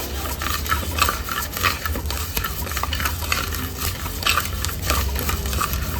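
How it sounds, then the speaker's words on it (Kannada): Coriander seeds dry-roasting in a pan for Coorg-style pork black masala, stirred with a steady scraping rustle and light clinks of the spoon against metal, close and continuous with no voices. "ನಿಧಾನವಾಗಿ ಧನಿಯಾ ಕಾಳನ್ನ ಹುರ್ಕೊಳ್ಬೇಕು"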